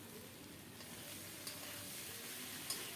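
Fish head curry with bean seeds fries in a pan as it is stirred, a soft, even sizzle with a few faint scraping knocks, heard close and quiet.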